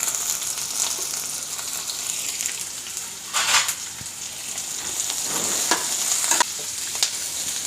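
Garlic and chopped onion fry with dried red chilies in hot oil, a continuous close sizzle broken by a few louder scraping bursts as a utensil stirs the pan.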